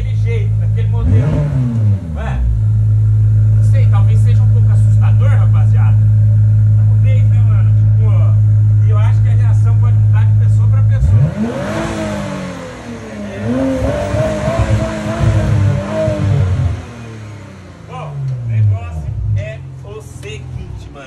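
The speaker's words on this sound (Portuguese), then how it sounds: "Chega um carro. Porsche Panamera." A Porsche Panamera engine revs hard in a long, loud sustained drone, then drops away before the car accelerates and the engine note rises and falls again, with speech over parts of it.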